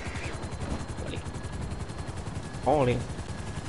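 Helicopter in the video game GTA V, a low rapid rotor chop running steadily throughout, with a voice calling out briefly over it.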